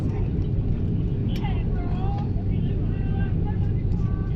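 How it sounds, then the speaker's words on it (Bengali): Steady low engine rumble of a passenger airplane on the runway just before takeoff, heard from inside the aircraft, continuous and fairly loud with faint voices over it. "আমাদের বিমানটি এখন উড্ডয়ন হবে"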